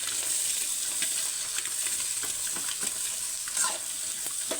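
Onion, carrot and capsicum stir-fried for chicken noodles give a steady, close sizzle with scattered scraping stir strokes throughout, no voices present.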